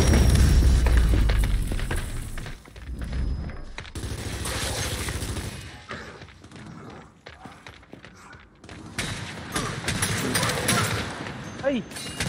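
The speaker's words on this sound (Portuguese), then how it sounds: "Granada de flash lançada!" A flash grenade bursts in Gears 5 multiplayer, a loud boom with crackling blasts and thuds, mixed with game effects and heavy talk from players throughout.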